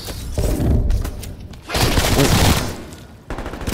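Rapid automatic gunfire from Call of Duty Black Ops Cold War Outbreak mode, loud and dense in two sustained bursts with a short gap between them and a third burst starting at the end.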